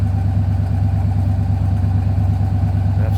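A 1972 Chevrolet C10 Cheyenne with a 350 V8 idles steadily up close, loud with an even, rhythmic low rumble and no voices.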